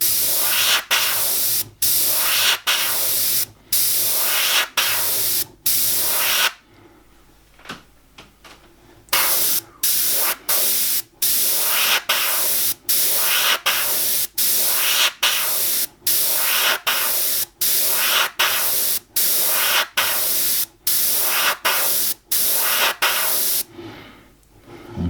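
Airbrush spraying paint on an owl design, heard as a loud, close, steady hiss in repeated bursts of a second or so with brief gaps, plus one longer pause.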